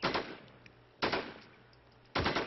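Rifle shots in a shooter video game, three sharp reports spaced about a second apart, each trailing off quickly, fairly close and moderately loud.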